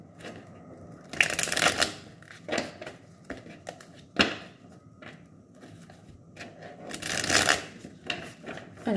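Tarot de Marseille cards being shuffled close up, in repeated riffling bursts with soft slides and taps between them, no speech.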